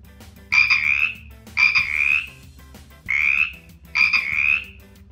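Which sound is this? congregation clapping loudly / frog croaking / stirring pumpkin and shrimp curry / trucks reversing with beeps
frog croaking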